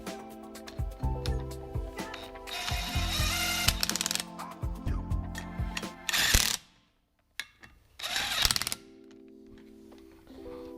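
A ratchet wrench snugs bolts on a car's brake hub and spindle, giving rapid clicking bursts close by, separated by short pauses and a brief silence.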